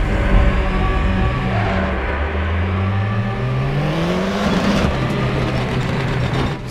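Formula 3 race car engine in the racing game RaceRoom, at the Monza circuit: a loud, continuous engine drone rising steadily in pitch as it accelerates, then a sharp upshift drop, with a sustained whine throughout and no voices.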